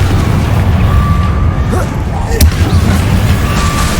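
A Confringo fire-blast spell erupts in the video game Hogwarts Legacy with a loud, rumbling boom, followed by a sharp crack.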